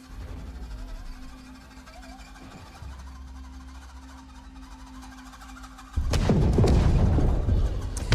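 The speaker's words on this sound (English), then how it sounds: "And that explosion sound, I have no idea what that explosion sound is" A sudden loud explosion in the video game Star Citizen erupts after several quieter seconds of low hum and a steady tone, then a broad roaring blast lingers until the end.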